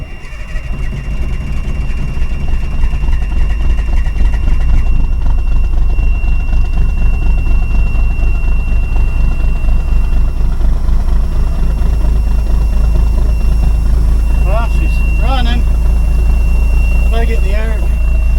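A military 5-ton truck's diesel engine cranks, catches and settles into a loud, steady low rumble that runs close and constant to the end. A person talks briefly over it.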